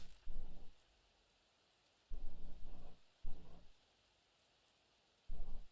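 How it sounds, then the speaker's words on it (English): Rain falls in an alley scene of the video game Arknights: a constant soft hiss runs underneath, broken by several heavy, low, rumbling swells that come and go. "It is quickly drowned out by the sound of the falling rain."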